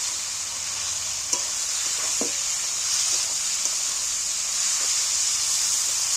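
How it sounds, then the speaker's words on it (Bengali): Minced meat fries in hot oil for a jackfruit curry, giving a steady, bright hiss of sizzling broken by a few faint stirring clicks and scrapes. "তুলে দিচ্ছি তেলের মধ্যে আমি এটাকে ভালো করে কষিয়ে নেব নেড়ে নিচ্ছি"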